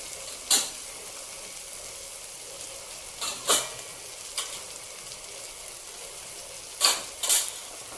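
Sprouted moong and onion frying in a pan as asafoetida and turmeric are added, a steady sizzle broken by several sharp stirring scrapes and clinks of the utensil.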